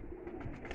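A brief, faint, low coo from rare Veshi pigeons, a single soft throaty murmur against quiet background noise.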